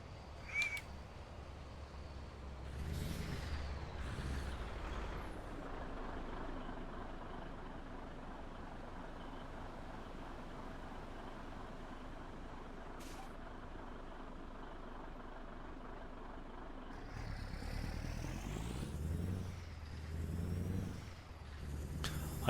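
A heavy truck cruises in American Truck Simulator, its engine a steady, loud drone with a low rumble that holds for the whole stretch, with a brief hiss and shifts in tone near the end and no talking.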